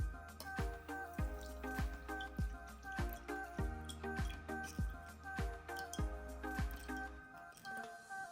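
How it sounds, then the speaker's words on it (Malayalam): Ground ragi mixed with water is strained through a sieve, giving a quiet, steady series of soft wet squishes and drips in a regular rhythm, with no talking. "ഇനി നമുക്കിതൊന്ന് അരിച്ചെടുക്കാം"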